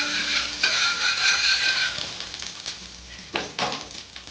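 Ghee sizzles in a pan over a medium gas flame while sweet potato patishapta is made, a bright crackling hiss with occasional utensil scrapes and clinks close by.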